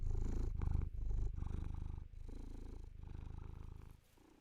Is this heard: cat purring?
yes